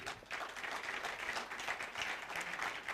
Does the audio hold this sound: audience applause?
yes